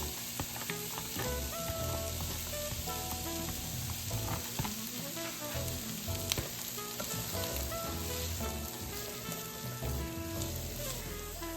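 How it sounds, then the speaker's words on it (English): Peppers and onions saute in hot oil in a pan, giving a loud, dense, continuous sizzle that crackles steadily throughout without any speech. "We're just gonna add in our pepper and onions."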